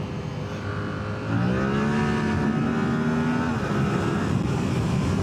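Close by, an RS200 motorcycle engine revs up with a rising pitch, holds a steady high drone for a couple of seconds, then eases back, over constant road noise.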